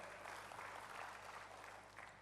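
A congregation claps together in a church, a dense, steady round of applause that lasts the whole moment without voices.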